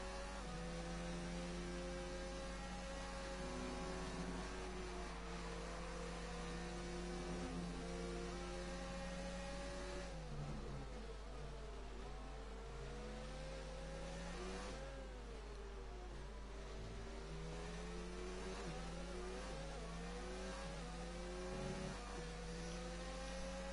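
A Formula 1 car engine in F1 2019 drones at high pitch down a straight, holding steady before a gear change and then climbing and falling again, with a constant low hum beneath.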